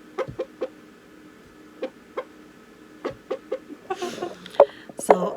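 An indoor pet rooster clucks in short, close bursts, a string of separate clucks that grows busier and louder toward the end, with a few sharper squawks.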